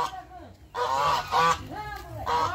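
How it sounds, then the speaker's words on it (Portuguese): Several loud, harsh goose honks in bursts close by, with brief pauses between calls. "era o ganso que era de me pegar aqui"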